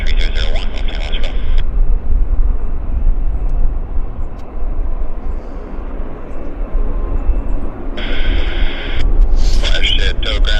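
An airliner takes off at Vancouver airport with a steady, roaring jet rumble that fills the whole stretch, while short bursts of air traffic control radio talk come through at the start and near the end.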